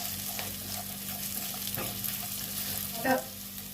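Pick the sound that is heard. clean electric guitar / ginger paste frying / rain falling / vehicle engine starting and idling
ginger paste frying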